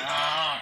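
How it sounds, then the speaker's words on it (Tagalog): Geese on a duck farm honk in a near, continuous, nasal call that holds steady for under a second. "meron pa tayong 12 na mga gansa rito sa ating duck farm"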